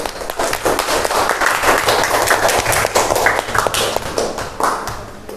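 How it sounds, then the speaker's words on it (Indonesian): Children in an Indonesian classroom clap together after a lesson on breathing. The claps are close, loud and distinct, a brisk uneven patter that runs the whole time with no talk over it. "Kita beri tepuk tangan untuk kita semua."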